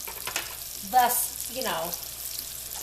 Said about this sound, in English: we're frying sweet potatoes, which are better for you than white potatoes, in a little bit of bacon grease and olive oil